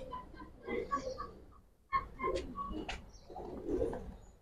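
A Giribaz pigeon, a female of the Palla line in a loft, gives soft repeated coos in short bursts, close and fairly quiet, with no talk.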